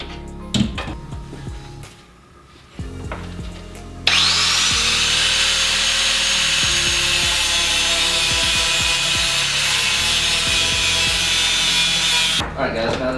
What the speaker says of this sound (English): just narrow it down just a little bit with a grinder